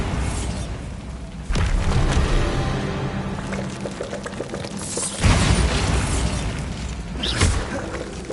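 Bombarda blasting spells in Hogwarts Legacy, a fantasy video game, land as repeated booming impacts with shattering crashes and debris, several sharp bursts spaced across a noisy, rumbling background.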